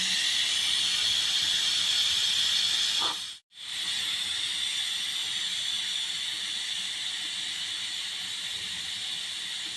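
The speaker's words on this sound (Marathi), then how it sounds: "थोडी वाफ काढून घेते" A loud, steady hiss of steam rushing out of a pressure cooker cooking mutton, continuous for several seconds with a brief cut midway, no voices.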